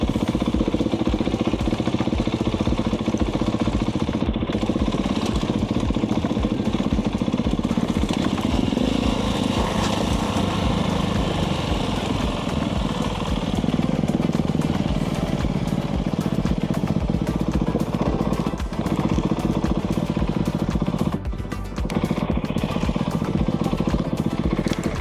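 A motorcycle ridden along a steep, rough green lane in Wales, its engine droning loud and close throughout with continuous rumble and clatter, rising and easing with the throttle.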